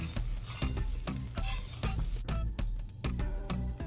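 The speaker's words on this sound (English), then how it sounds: "Mix for 2 minutes until well combined." A spoon stirs homemade stove-top granola mix with coconut oil in a pan, giving repeated scraping and rustling strokes at a steady rhythm over a light sizzle, close and fairly loud.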